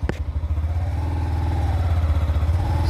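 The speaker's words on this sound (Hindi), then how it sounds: "ये देखो ट्रेन जा रहा है" Train passing at Jatinga Lampur station, a steady low rumbling engine drone with rhythmic clattering of wheels on track, loud and continuous throughout.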